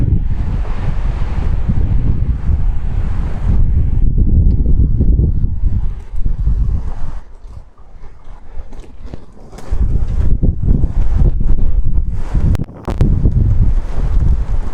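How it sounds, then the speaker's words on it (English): Strong wind blows on the Costa Brava coast at Begur in Spain, roaring and buffeting the microphone in loud gusts that drop briefly, with a surf-like rush underneath and no voices. "Wow, a lot of wind."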